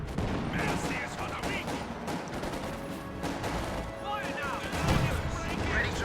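Rockets and small-arms fire in Company of Heroes 2, a British versus Wehrmacht match, with scattered bursts and a sharp blast near the end over a busy battle din while someone talks.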